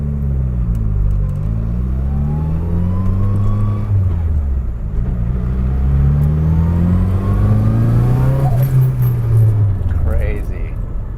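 A 1970 Datsun 240Z with a swapped SR20DET engine drives along, its engine rising and falling through revs with a close, loud drone, while people talk over it inside the car.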